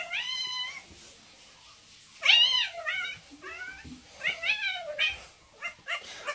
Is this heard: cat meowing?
yes